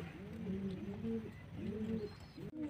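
A pigeon being held in the hand coos in repeated low, rounded calls, close and fairly loud, with a brief handling rustle near the end.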